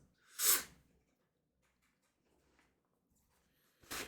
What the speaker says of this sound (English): I'm going to do some more sneezing.